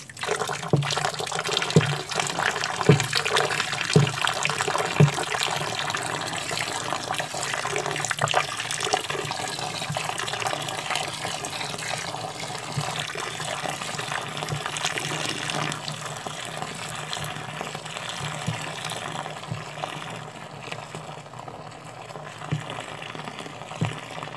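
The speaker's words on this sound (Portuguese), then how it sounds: "Vou botar 3 litros de água." Three liters of water poured slowly into a container while making glycerin liquid soap, a steady continuous splashing and trickling flow throughout, fairly close and without talk.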